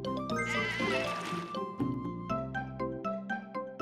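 Cartoonish sheep bleating in the puzzle video game Divide By Sheep, several bright bleats over a steady musical game soundtrack with plucked, rhythmic notes, fairly loud and with no voices.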